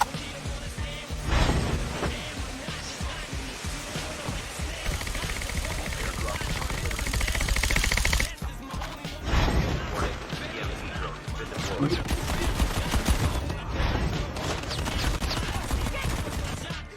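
Rapid bursts of gunfire and crashing impacts in an online shooter game, loud and dense with short breaks, while players shout and talk over the action.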